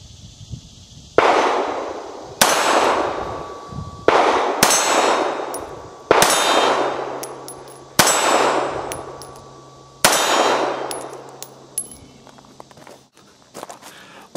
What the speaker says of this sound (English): let's see how I handle the little Especial against Roy when I'm shooting one-handed